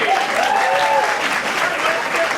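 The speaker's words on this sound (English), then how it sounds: "Big round of applause for Liam, quickly!" Loud, sustained applause from an improv comedy audience, steady clapping throughout with faint voices and cheers mixed in.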